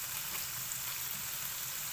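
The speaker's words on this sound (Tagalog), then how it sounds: "Tapos pag nagisa na, ilagay natin yung gulay." Mixed vegetables and sardines sautéing in a pan give a steady, close sizzle with faint stirring, continuous and even throughout without any talking.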